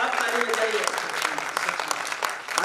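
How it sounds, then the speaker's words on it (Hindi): An audience at a Hindi poetry recital in memory of a father claps steadily and loudly, a dense, continuous spatter of hands throughout. "एक बार आप ताली बजाइए"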